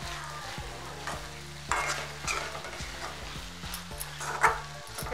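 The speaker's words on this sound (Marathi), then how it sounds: "हे असं हलवून घ्या एकदा" Hadga (agathi) flower vegetable stirred in a pan after coriander is added, a spoon scraping and turning it over a soft continuous sizzle, with repeated knocks of the spoon against the pan.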